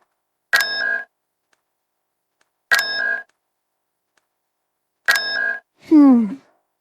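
Electronic call tone plays while trying to reach someone, three identical short chiming bursts spaced about two seconds apart, loud and clean against silence, followed by a brief descending warble at the end.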